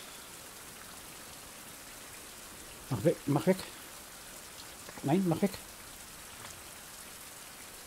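Steady rain falls throughout a scene in the survival game Survival: Fountain of Youth, a constant soft hiss under two brief bursts of a man's speech.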